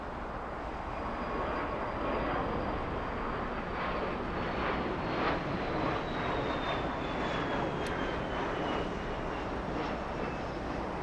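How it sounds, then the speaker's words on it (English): Singapore Airlines jet taking off down a runway at Los Angeles International Airport, a loud, steady, broadband engine roar that holds for the whole stretch, heard from the spotting area with no talk. "There goes Singapore racing down the runway."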